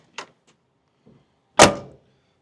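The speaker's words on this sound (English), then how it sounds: "Look how this door opens and closes." Door of a 1977 Ford F100 short-wheelbase pickup truck: a light click of the latch opening, a faint rattle, then one loud, solid slam as it shuts, close by.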